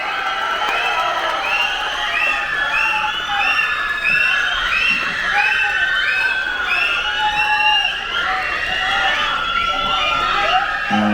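A large crowd at a stage event in Tamil Nadu claps and cheers steadily and loudly as the actor SK is called up to speak, with many excited shouts and whistles layered throughout.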